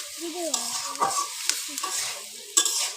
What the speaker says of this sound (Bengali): এবার টমেটোগুলো একটু নাড়িয়ে দিচ্ছি